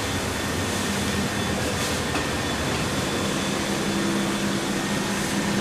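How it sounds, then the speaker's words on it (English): Vacuum pump of an optical mask aligner running, a loud, steady mechanical drone with a low hum and broadband hiss that holds constant throughout, with no talking. "so turn the pump on at the wall."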